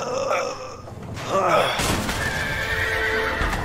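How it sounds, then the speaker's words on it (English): Horses in the video game A Way Out neigh and whinny loudly at close range, with hoof clip-clops and grunts, as voices talk over them. "There are the horses. Let's release them."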